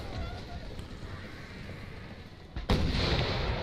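Cannon fire in the video game Napoleon: Total War rumbles in the distance as a steady low battle din, with a sudden heavier blast late on.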